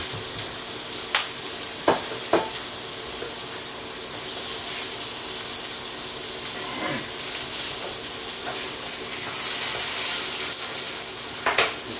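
Hamburger patty frying in a pan for loco moco, a steady loud sizzle and hiss with a few sharp scrapes or taps of a utensil, no one speaking.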